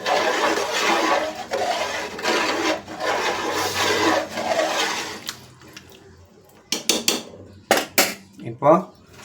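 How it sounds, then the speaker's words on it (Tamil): A spoon stirs food in a metal pot in a home kitchen, first as a steady scraping rub and then as a few sharp clanks and knocks against the pot, close by and with no talk. "நல்லா கிளறி வைப்போம்."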